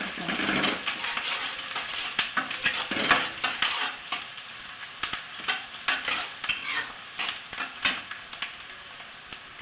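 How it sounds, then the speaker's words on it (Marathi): Chopped onion stirred and fried in a pan with red chilli, garlic and cumin paste for stuffed capsicum, a steady crackling sizzle broken by frequent scraping stirs, close and fairly loud throughout. "कांदा तळपण"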